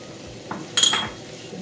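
A spoon stirs chopped tomatoes and tomato paste into seafood rice in a pan, giving a brief scrape and clink of utensil against the pan, close and moderately loud, with no talking.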